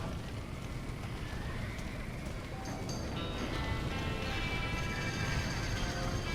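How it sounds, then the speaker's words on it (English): Horses in the video game Red Dead Redemption whinny and neigh amid a fire scene, with several high calls over a dense, steady rush of background noise. "Somebody get them horses out!"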